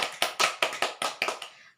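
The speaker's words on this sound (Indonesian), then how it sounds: "Tepuk tangan untuk Kiki." A small group gives a short burst of applause for Kiki, about eight rhythmic clustered claps in under two seconds that fade out at the end, close and without speech.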